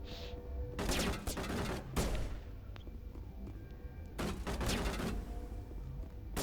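Gunfire in a Mass Effect combat sequence comes as several loud, rapid bursts of shots separated by short pauses, with a low background hum between them.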